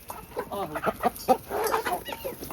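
Chickens cluck in short, uneven bursts, several birds close by, with a steady background hiss and no talking.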